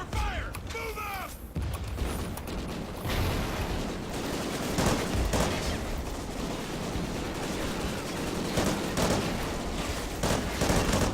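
Dense, continuous automatic gunfire in the video game Call of Duty: Ghosts, sustained rattling bursts with mechanical clatter throughout, loud and close, no clear talk over it.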